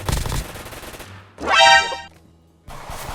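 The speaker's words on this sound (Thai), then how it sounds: "ผมว่าปืนนี้มันรูดเร็วไปว่ะ" Rapid automatic gunfire from a gun in the video game Block Spin comes in a loud burst, then a bright rising mechanical clatter, then a further short spurt of shots.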